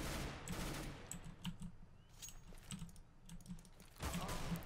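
Bursts of rapid gunfire ring out in Counter-Strike: Global Offensive, quick crackling volleys near and far with keyboard tapping mixed in under the shots.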